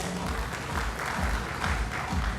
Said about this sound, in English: Let's give a round of applause to both of them.